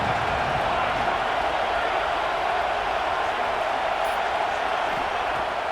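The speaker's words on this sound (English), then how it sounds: "This crowd bringing the energy and noise early." Football stadium crowd at a Notre Dame versus USC game, a steady, dense roar of many voices holding at an even loudness for the whole stretch without breaks.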